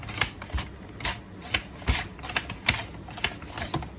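Potatoes crinkle-cut on a MandoChef mandoline at a 4 mm setting, heard as a run of crisp, evenly spaced slicing strokes, close and fairly quiet, with no talking.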